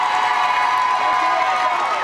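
A high school girls' basketball crowd cheers and claps in a gym as a player heads to the free-throw line, a dense, loud roar with shouts mixed in and an announcer's voice under it.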